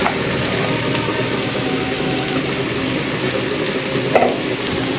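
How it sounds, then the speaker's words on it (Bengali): Beef curry ingredients are stirred together in a sizzling pan, a dense continuous frying hiss with faint scraping and one brief louder clatter near the end, close and loud, no speech. "এখন সব কিছু একসঙ্গে মিশিয়ে নিব"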